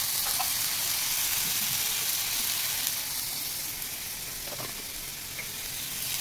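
Turmeric, coriander and cumin masala fries in a pan with a steady, close, bright sizzle that holds throughout, broken by a few faint stirring clicks.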